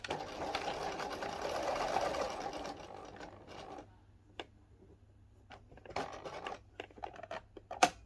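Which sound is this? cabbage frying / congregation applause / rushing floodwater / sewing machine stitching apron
sewing machine stitching apron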